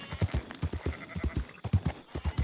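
Steady clip-clop of horse hooves trotting at a brisk rhythm in Red Dead Redemption 2, close and clear, with a faint whinny-like tone mixed in.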